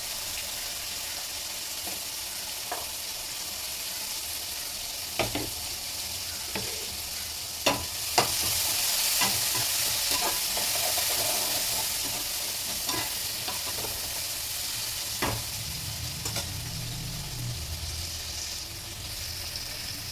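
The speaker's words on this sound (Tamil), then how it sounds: "இந்த வெங்காயம் தக்காளியை இதில் போட்டு வதக்கிக்கலாம்." Onion and tomato sautéing in a pan in a home kitchen, a steady close sizzle with occasional sharp clinks and scrapes of a stirring spoon throughout, no one speaking.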